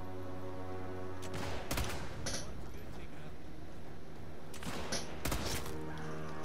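Scattered gunshots in Sniper Elite 5 crack out as a few sharp reports amid continuous game sounds and a low background hum, with talking mixed in.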